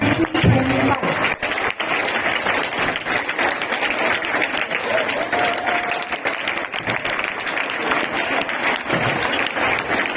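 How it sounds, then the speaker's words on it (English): Steady, full crowd applause at a NEET 2025 results celebration for successful students, many hands clapping densely for about ten seconds with occasional cheers and murmurs underneath. "A huge round of applause again to all our achievers."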